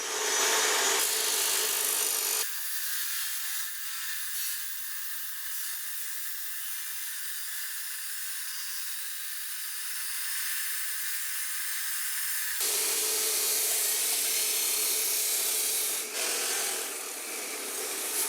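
A chop saw cutting a stack of metal framing studs, a loud continuous grinding whine that starts, holds steady for about ten seconds, then drops back to a rougher idle.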